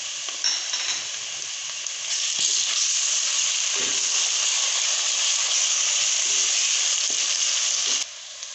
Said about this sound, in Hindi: हमारा अदरक लहसुन पेस्ट फ्राई हो चुका है।